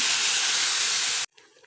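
Water hitting sautéing vegetables for ginataang kamansi with tinapa gives a loud, steady steam hiss and sizzle that cuts off abruptly, followed by faint kitchen sounds.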